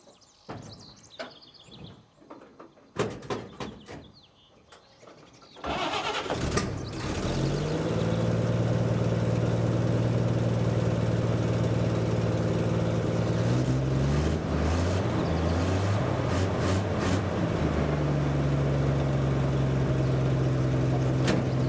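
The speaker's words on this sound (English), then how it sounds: "So I think I'm going to fire him up here." A 1950 Chevy flatbed truck with a 235 engine cranks and fires up after a few quiet seconds, then settles into a steady, loud, even idle close by for the rest of the clip.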